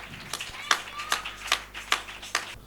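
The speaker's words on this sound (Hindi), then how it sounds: "ताली बजा दें।" Hands clapping at an evening gathering: about six sharp, evenly spaced claps at a steady moderate pace, fairly faint and slightly distant over a quiet background hum.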